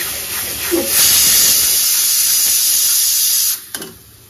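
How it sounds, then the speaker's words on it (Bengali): A pot of fish and egg vegetable curry boils with a steady, loud broadband hiss for about three and a half seconds, then drops away abruptly, leaving a couple of faint clicks and a soft tail. "এইদিকে ফুটছে আর মাছ আর ডিমের একটা কম্বিনেশন সবজি"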